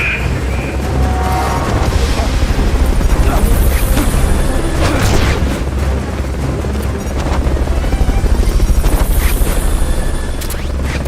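A video game helicopter (Metal Gear Solid: Peace Walker) roars loud and continuous, its rotor rumble filling the scene with a few heavy thuds mixed in.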